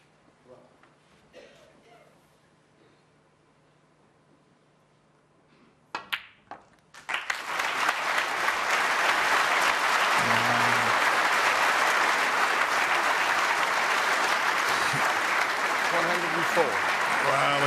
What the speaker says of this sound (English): a terrific round of applause for his 2nd century break